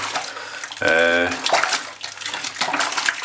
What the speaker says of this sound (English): Wash the brush out properly